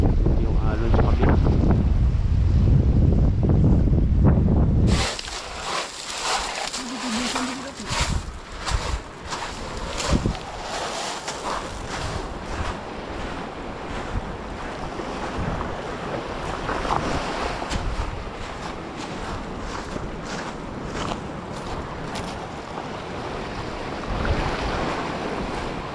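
Sea waves wash and break at a shoreline fishing spot. Heavy wind buffets the start, then steady surf churns on with gusty noise throughout.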